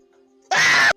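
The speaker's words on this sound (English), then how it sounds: "that scream was so genuine" One loud, sharp human scream bursts out of near-silence and cuts off after about half a second, close and piercing, during a group's tabletop role-playing game session.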